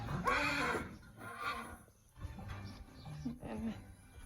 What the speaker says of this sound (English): And walk down over here are the horses. They're already asking for some food.